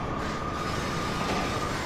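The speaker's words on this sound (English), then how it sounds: "So you can do this with the freight train as well." A freight train in the GTA video game gives a steady, loud rolling rumble with a faint high wheel squeal, continuous throughout, with no voices over it.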